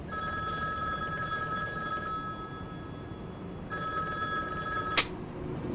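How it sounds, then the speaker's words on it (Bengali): A telephone bell rings in two long, shrill bursts with a short pause between them, followed by a brief click, alone in a quiet room. "এমন সময় টেলিফোন বেজে উঠল।"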